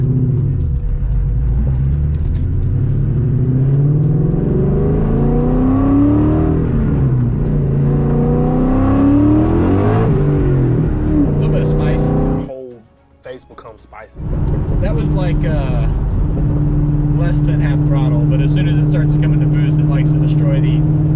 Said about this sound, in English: See if we can't give you a little bit of this exhaust tone here.